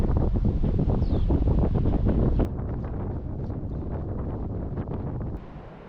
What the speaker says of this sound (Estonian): Siin on mingi mitukümmend meetrit sekundist tuulest.